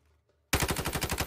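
Automatic gunfire in the mobile shooter Warzone Mobile breaks out after a brief near-silence, a loud rapid burst of evenly spaced shots running to the end.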